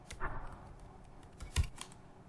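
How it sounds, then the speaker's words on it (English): Fingers tap out the ifconfig command on a computer keyboard in a logged-in OWASP BWA lab session, producing a handful of faint, quick, close keystroke clicks with a slightly firmer press near the end. "So after that, type your ifconfig"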